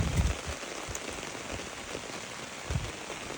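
Rain falling in a garden, a steady close patter of drops on leaves and surfaces with a few louder splashes, with no voices.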